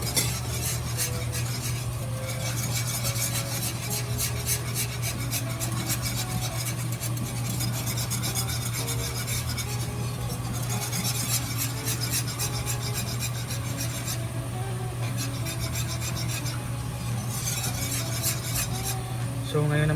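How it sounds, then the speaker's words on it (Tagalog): A saging con yelo mixture is stirred in a pan, a steady, close rasping scrape of a utensil against the pan over a constant low hum, repeating without pause. "So itutuloy lang po natin ang ating paghahalo."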